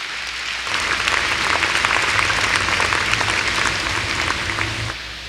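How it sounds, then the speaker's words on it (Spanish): Steady, dense applause from a congregation during an evening church service, filling the space loudly and evenly for several seconds with a faint low hum beneath. "Vamos a darle un fuerte aplauso al Señor Jesucristo."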